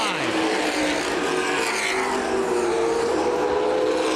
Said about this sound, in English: Spillers and the 42 machine of Sibla continuing to run 4th and 5th.